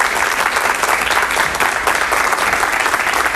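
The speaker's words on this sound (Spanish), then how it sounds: "Recibamos con un fuerte aplauso al parapsicólogo cubano" A television studio audience on a Spanish-language talk show applauds a Cuban parapsychologist guest, a loud, dense, sustained clapping that holds steady throughout without talk.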